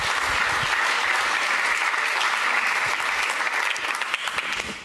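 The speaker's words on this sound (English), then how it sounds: "So give him a warm applause, please." Sustained audience applause fills a lecture hall at an evening talk on smartphone addiction, a steady dense wash of clapping that stays loud throughout and thins slightly near the end.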